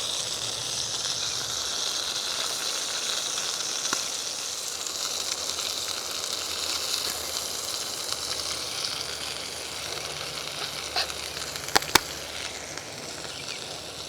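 Vegetables hiss and sizzle on a hot rock-top cooking surface, a steady broadband frying crackle that holds evenly throughout, with a few sharp pops near the end.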